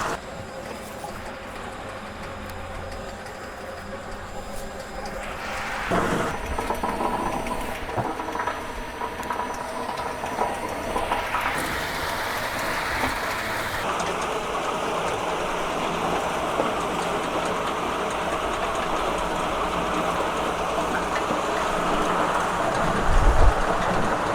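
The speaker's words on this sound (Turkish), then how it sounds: "Gördüğünüz gibi makine hala ceviz istiyor." A horizontal walnut peeling machine runs with a continuous rumbling, rushing churn that swells into louder, brighter washes as nuts tumble through, staying close and steady throughout.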